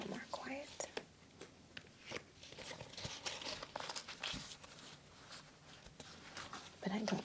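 Quick papery riffles and soft crinkling of tarot cards being shuffled up close, with hushed whispering running throughout.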